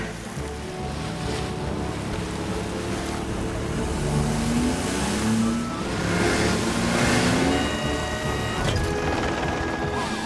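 A cartoon car races toward the beach with a nurse at the wheel and a trapped passenger aboard, a steady engine drone under rushing wind and surf, with tones sliding upward as it gathers speed, continuous and fairly loud.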